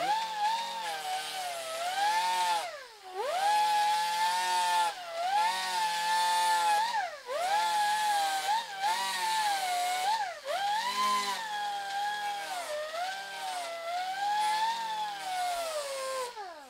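An angle grinder's wheel grinds down a stainless steel outside corner weld, a loud close whine that rises and dips in pitch in repeated passes as the wheel is pressed against the metal, with no talk.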